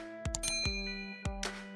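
Bright bell-like dings of a notification chime sound effect, several clear metallic strikes in quick succession with sustained ringing tones, close and clean with no voices.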